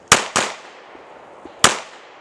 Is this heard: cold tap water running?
no